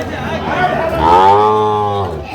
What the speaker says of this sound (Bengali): এটা একটা ষাঁড় বাচ্চা এই যে সার বাচ্চা সুন্দর সার বাচ্চা